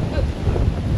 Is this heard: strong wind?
yes